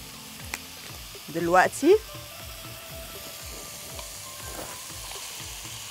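Shrimp frying in a hot pan outdoors for a seafood tagine beside small pieces of calamari, giving a steady soft sizzle with rhythmic stirring scrapes. A brief spoken word rises over it partway through.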